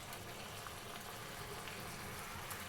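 Chicken simmering with spices in a covered pot on the stove for lemon chicken pilaf, a steady soft bubbling and hiss that stays level throughout, close by with no talking.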